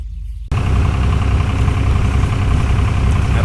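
Outboard motor on an aluminium motorboat chugging steadily in a canal lock, a continuous low engine drone that kicks in loudly after a brief quieter moment and holds constant.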